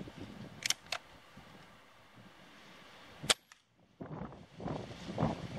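A .22 Benjamin Titan Nitro Piston air rifle fired at 25 yards. It gives a couple of sharp snapping cracks against a quiet background, followed by faint handling noises.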